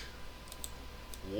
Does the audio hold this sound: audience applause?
no